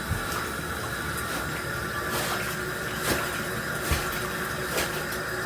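Budget aquarium substrate being rubbed and rinsed by hand in water, a steady sloshing, trickling wash with a few soft splashes and knocks, fairly quiet and without talk.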